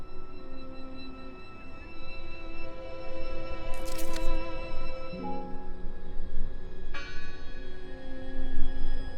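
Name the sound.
church bell ringing in video game Draugen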